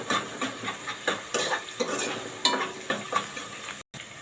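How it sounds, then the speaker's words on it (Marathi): Ginger and garlic sauté in hot oil in a home kitchen, a continuous crackling sizzle broken by rhythmic stirring scrapes, close by and moderately loud. "आणि थोडी लसूण ना तेलावर परतून घेऊया तेलावर आला आणि लसूण आपण चांगली परतून घेऊया"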